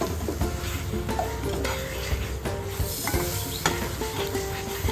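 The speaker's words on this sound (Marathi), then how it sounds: "पनीर टाकून आपण चांगल्या प्रकारे आपण मिक्स करून घेऊया" Paneer is stirred into a simmering curry in a pan, with continuous scraping and sizzling broken by sharp clinks of a spoon against the metal, close and fairly loud.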